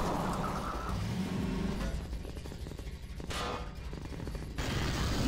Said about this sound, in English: When a vehicle is stuck upside down, it will usually flip itself over without any help.